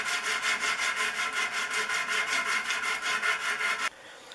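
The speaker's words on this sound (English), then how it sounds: "Adjust the angle of my file to try to make this look even." Rhythmic metal filing, a flat file scraping a rifle barrel crown in quick regular strokes about four per second, close up, then stopping abruptly.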